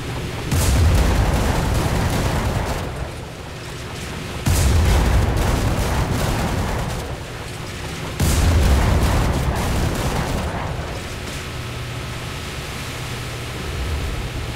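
Heavy naval 85mm gun fire in a War Thunder ship battle, with three deep, loud booms spaced a few seconds apart, each followed by a long rumbling decay.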